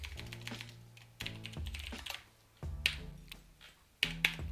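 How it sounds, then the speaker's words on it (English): Computer keyboard typed on in quick bursts of crisp key taps, close and fairly quiet, with short pauses between the runs of keystrokes. "I'll type maybe, whoa, I cannot type, clearly."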